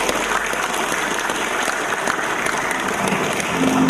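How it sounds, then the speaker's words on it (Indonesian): Steady, dense applause from a large audience at an Islamic religious talk in Indonesia, sustained throughout with no pauses and no voices standing out. "Kita berikan tepuk tangan untuk kita semua."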